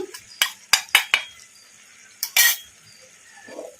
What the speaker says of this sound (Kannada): ಈಗ ಕಲಿಸ್ಕೊಂಡ್ಬಿಡೋಣ